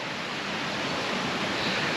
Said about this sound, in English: When you listen to that water running, nothing stops that.